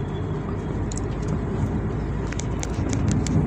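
Steady road rumble and engine drone inside a car driving on the outskirts of Siem Reap, Cambodia, a continuous low hum with faint high ticks from the cabin.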